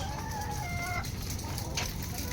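Laying hens in a chicken coop cluck continuously, with a rooster crowing clearly over the flock and a steady low hum of farm background beneath.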